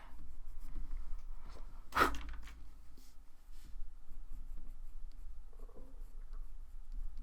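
Colour pencil shading dark tones on paper while drawing a tiger eye, a soft continuous scratchy rustle with one sharper stroke near the start, close and quiet.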